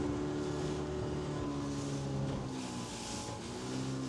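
Boats and ships in Chittagong harbour make a steady low engine drone with a broad wash of water and wind noise, unchanging and fairly distant throughout.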